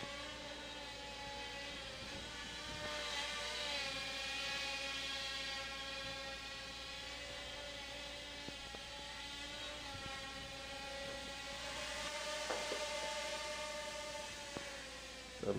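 A Blade Nano QX quadcopter drone hovering in a small indoor space, giving a steady high-pitched whining buzz with layered tonal harmonics that shift slightly as the throttle changes, close and continuous.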